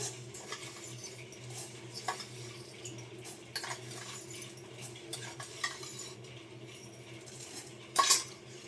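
Coriander seeds with chana dal and urad dal dry-roasting in a pan while being stirred, giving quiet scraping and a low steady rustle with a few soft metallic knocks and a sharper clink near the end.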